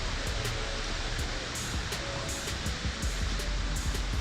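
A waterfall along an off-road route in Thailand, heard as a steady, dense broadband rush of falling water that fills the whole clip, close and unbroken with no voices.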